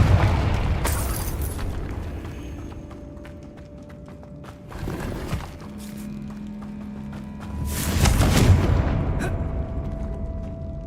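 A Confringo fire spell explodes in the Hogwarts Legacy video game, a loud booming blast with a rumbling tail, then a second burst follows a few seconds later amid game ambience.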